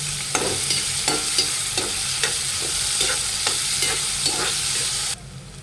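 Two large chopped onions frying with salt in a pan, a steady loud sizzle broken by regular spatula scrapes and stirs, cutting out abruptly near the end.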